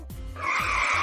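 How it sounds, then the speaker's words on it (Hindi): Car tires skid and screech in a short, loud burst as a vehicle crashes, with a low thump before a sustained high squeal. "गाड़ी टकरा गई।"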